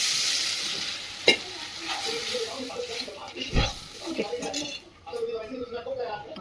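Cooked dal poured into a hot garlic and chili tempering in a pan, giving a sizzling hiss with stirring clatter and sharp bumps, moderately close, steady through the pour and easing slightly near the end.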